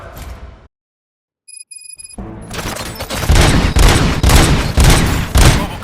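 Gunfire in the Robocop: Rogue City video game: a brief burst, a moment of silence and a few electronic tones, then a sustained loud fusillade of rapid shots and booms.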